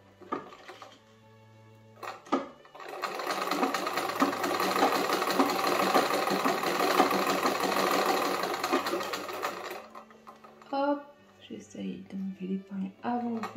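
A century-old sewing machine stitches fabric in a steady, rattling run of about seven seconds, with a person speaking softly before and after.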